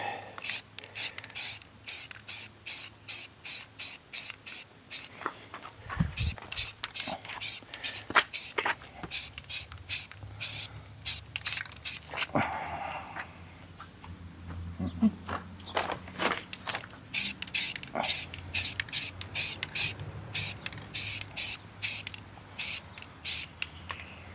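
A light coat of spray paint goes onto an alloy wheel from a 2011 Ford Fiesta in rapid, evenly spaced hissing bursts. The bursts pause briefly midway, then resume close and steady.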